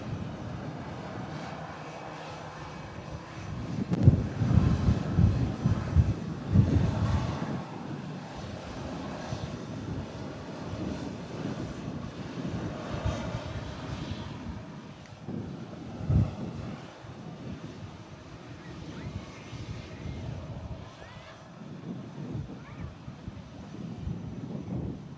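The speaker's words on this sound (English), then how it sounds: "This one's the Irish designated Aer Lingus. EI Den." An Aer Lingus airliner arriving from Dublin roars past, its engine sound swelling early, then fading into a long, softer rumble with wind buffeting the microphone.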